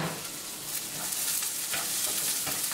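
Spring onion and petai stir-frying in a spicy fried rice loaded with chillies, a steady close hiss of sizzling with scraping stirs throughout, no voices.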